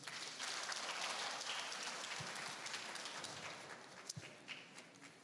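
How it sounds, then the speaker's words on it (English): Audience applause at a youth parliament event, a steady broadband clatter of clapping sustained throughout, gradually thinning toward the end with a few isolated louder claps. "Another round of applause for them, please."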